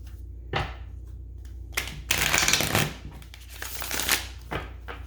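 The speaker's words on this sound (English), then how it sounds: "One more shuffle." Several bursts of tarot cards being shuffled, crisp riffling and flicking sounds close by, separated by short quiet gaps.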